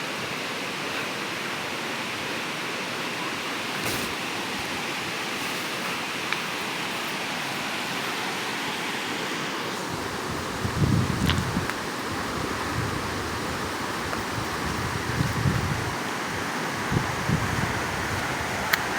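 Steady broadband rush of a strong river current, continuous and fairly close, with faint splashing and movement toward the end as people wade across.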